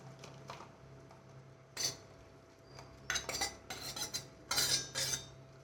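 Onion, curry leaves and other hair oil ingredients dropped into a silver or plastic container for homemade hair oil, giving several soft clinks and rattles in scattered bursts, with a quiet steady hum beneath and no talking.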